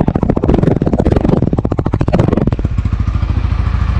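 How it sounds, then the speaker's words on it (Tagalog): Honda Winner X 150 motorcycle revved through its muffler, a loud, close, rapid exhaust pulse that climbs and falls in a few blips before settling into a steady idle. "Bomba natin na konti guys ha. Parang rev din siya ng sniper, halos hawig. Yan, yung muffler natin."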